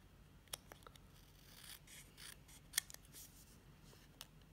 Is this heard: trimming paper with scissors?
yes